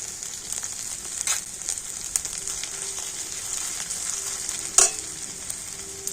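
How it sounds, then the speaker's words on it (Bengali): Chopped vegetables and spices fry in a pan for singara filling as turmeric powder goes in, producing a steady hissing sizzle with light stirring scrapes and one louder clank near the end, without speech. "তো সব কিছু একটু ভালো করে ভেজে নেব"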